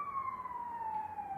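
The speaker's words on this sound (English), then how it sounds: "sirens." An emergency siren wails steadily at a moderate distance, a single sustained tone that slowly falls in pitch, faint over a quiet background.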